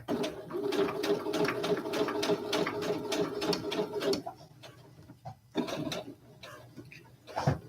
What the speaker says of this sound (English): I'm gonna back stitch, forward stitch, and voila.